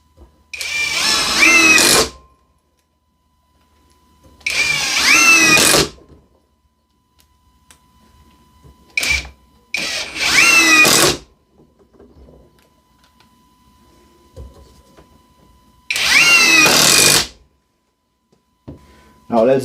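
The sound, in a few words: Ryobi or CAT cordless driver running screws in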